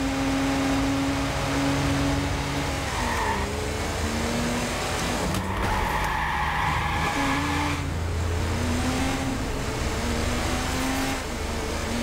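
A car in Watch Dogs races at high speed, its engine droning and shifting pitch as it accelerates, with brief tire squeals and road noise. The sound is steady, loud and close throughout.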